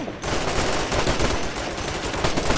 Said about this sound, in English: This is Alpha Team, we're getting shot at.